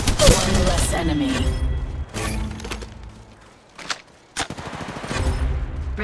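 Video game weapon gunfire: a dense burst of rapid shots up front, a short pause, then isolated cracks and another rattling volley near the end, loud and close, with a voice briefly audible at the start.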